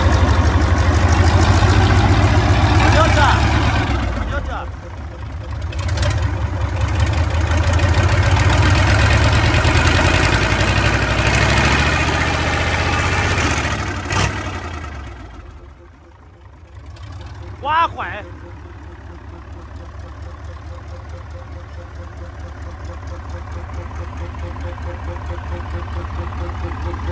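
A Mitsubishi 8DC9 diesel engine runs with a heavy, steady low rumble that dips and fades midway, with a few knocks and clatters, while people talk nearby.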